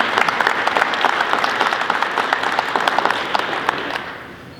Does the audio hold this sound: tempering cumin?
no